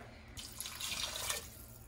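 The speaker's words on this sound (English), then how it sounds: "A little bit more water in there because I had it kind of condensed." Water is poured into a pot of seafood broth on the stove, a short close splashing stream that lasts about a second before it stops.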